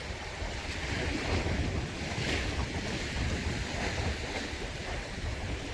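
Sea swell and wind at a rocky shore in Busan, a constant broad roar of surf and gusting wind buffeting the microphone, fairly loud and unbroken, with no voices.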